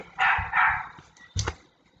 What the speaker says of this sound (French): j'adore les animaux, surtout les chiens, mais son aboiement c'est quelque chose.